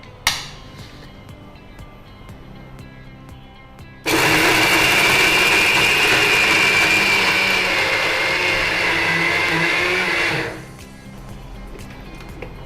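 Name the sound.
mixer grinder blending curry leaf chutney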